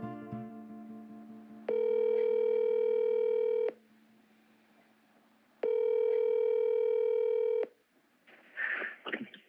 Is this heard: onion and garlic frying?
no